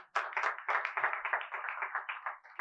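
A church congregation breaks into applause, a dense burst of clapping lasting a few seconds that rises quickly and then tapers, with no talking over it.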